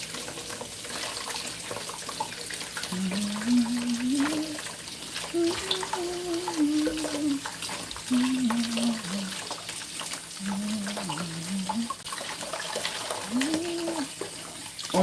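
A kitchen tap runs steadily while a chopping board is scrubbed with a sponge under the water, giving a continuous rushing hiss with soft scrubbing and a few faint tonal squeaks.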